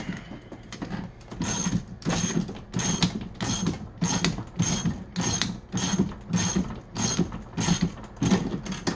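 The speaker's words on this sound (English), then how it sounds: "So now we're going to take our 7/8" socket and go ahead and tighten this down." A 7/8-inch socket ratchet tightening a part on a Dillon XL750 progressive reloading press, giving a steady run of about a dozen loud, evenly spaced ratcheting strokes up close with no talking.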